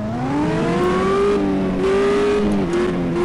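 A car engine drones loudly at full throttle in a mobile stunt-driving simulator game, a steady, near, continuous roar with its pitch rising slowly and dipping slightly before climbing again.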